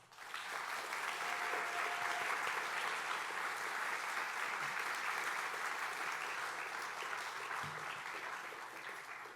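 Audience applause greets Judge George Pappas, an immigration judge, as he is welcomed onstage for a talk; steady, dense clapping from a seated crowd holds for about nine seconds before easing off slightly at the end.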